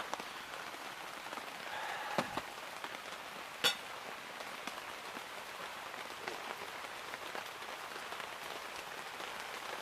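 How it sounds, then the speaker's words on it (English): Steady light rain patters on a surface with scattered louder drips and a couple of sharp taps, a continuous soft hiss throughout. "It's still raining a little bit"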